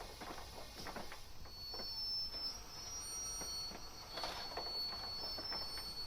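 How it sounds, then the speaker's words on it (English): Faint, high-pitched squealing of train brakes in a train simulator game on the Falmouth Branch, over a steady rumbling and clattering of wheels, with no one speaking. "Let's put those brakes on now, and we're going to be good."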